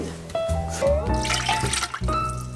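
Water poured onto rice in a pot while making Persian barberry rice, a close trickling, splashing pour with brief surges and a few clinks, under someone speaking.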